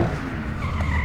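A BMW M4 slides sideways around a circuit, its tyres skidding and scrubbing in a loud, sustained roar with engine noise running underneath throughout.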